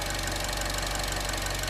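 A turbocharged 1.4-liter Ecotec engine in a Buick runs steadily, giving a close, even, low mechanical hum with a faint ticking pulse.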